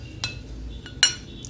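A few sharp clinks of dishes and cutlery as parsley and garlic are placed on a plate, three brief metallic ticks spaced apart in a quiet kitchen.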